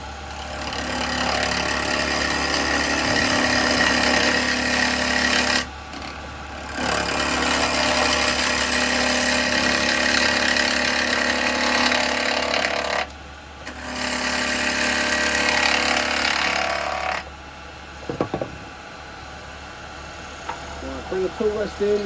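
A lathe spins while a live-edge yew bowl is turned, giving a continuous loud scraping and cutting roar with two brief breaks. The noise ends as the tool lifts off, and a person speaks in the background.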